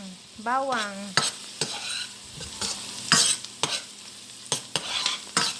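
Onion and garlic being sautéed in a pan for a Filipino afritada, with soft sizzling under repeated scraping and stirring strokes from a utensil, plus a brief whistling tone near the start.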